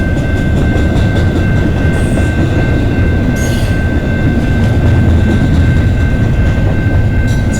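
CN freight train Q122 passing through the London East rail yard: a loud, continuous roar of wheels and rolling freight cars close by, with a faint high squeal and light rhythmic clatter, no voices.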